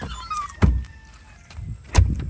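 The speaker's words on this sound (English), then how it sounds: "So I'm going to go ahead and close this door." A door being closed at home after a dog-feeding routine, two solid thumps about a second apart, the second slightly louder, fairly close with a quiet background between them.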